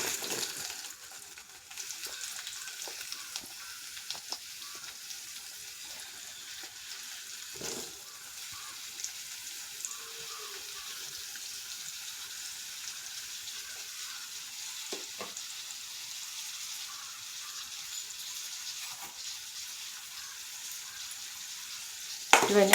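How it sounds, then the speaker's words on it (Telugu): Chopped onions fry in hot oil with cumin in a kadai, giving a soft, continuous sizzle with scattered faint pops and stirring scrapes, fairly quiet, with no speech. "ఇప్పుడు ముందుగా కట్ చేసుకున్న ఉల్లిపాయ ముక్కలన్నీ వేస్తున్నాను"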